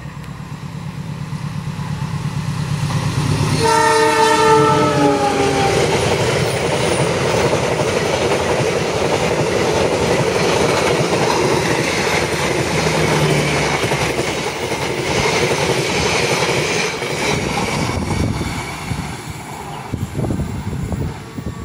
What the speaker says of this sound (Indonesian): Ini kereta api 2636F Mabe Tanker dari ini kereta BBM ya